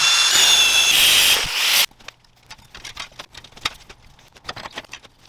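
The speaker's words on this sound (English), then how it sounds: "gonna be drill, drill, bend, bend, bend, bend, cut." A power drill bores into a metal mounting bracket, loud and close, then stops abruptly and gives way to a series of scattered knocks and scrapes from bending and cutting the metal.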